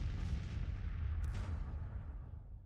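Artillery fire in Grand Tactician: The Civil War, a heavy booming rumble with a brief sharp crack near the middle, fading gradually over a few seconds, with no talking.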